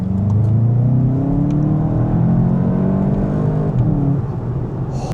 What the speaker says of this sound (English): You can kind of feel the turbo spool up, and then this car just wants to go instantly.